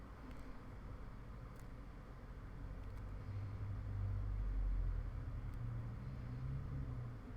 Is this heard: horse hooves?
no